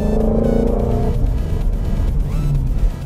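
Ford Mustang GT350 engine revving toward 3,000 RPM in sport exhaust mode, a loud close growl that rises and then settles into a rumbling idle.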